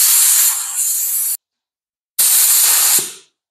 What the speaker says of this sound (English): I usually spray at about 35 pounds for the base coat.